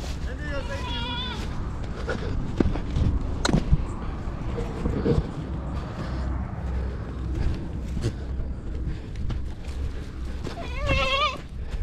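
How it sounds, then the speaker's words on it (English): A large goat bleats in wavering cries at the start and again near the end, close by, amid constant outdoor rumble, knocks and shuffling, with people talking throughout. "Hey guys, we have the goat."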